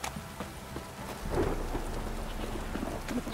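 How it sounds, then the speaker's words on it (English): Heavy rain pours steadily in The Witcher 3: Wild Hunt while a deep rumble of thunder swells midway and lingers under the constant hiss of the downpour, with no voices. "This downpour's a bastard,"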